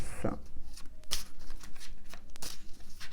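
Tarot cards shuffled and drawn, giving soft riffling and slapping card noises in short bursts, close by, with someone speaking French in between.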